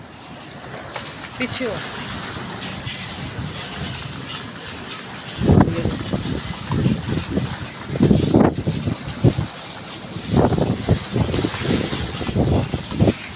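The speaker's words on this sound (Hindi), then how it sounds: "बारिश बहुत तेज़ शुरू हो गई बहुत ज़्यादा" Heavy stormy rain pours down outside a family home, soaking the cots, as a steady broadband roar with gusty wind noise, while family members talk over it.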